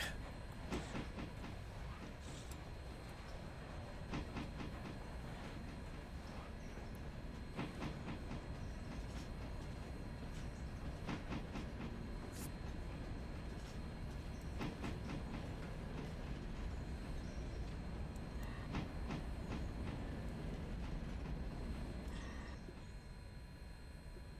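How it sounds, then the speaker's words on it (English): Locomotive rolling through the Railroader video game, a steady rumbling train sound with rhythmic clicks and clacks running throughout at an even level, no talk over it. "There is a locomotive down there."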